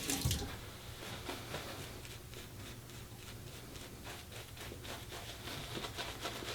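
Hot water runs from a bathroom tap during a straight razor shave, a soft steady splashing trickle with faint drips and rubbing, quiet and close.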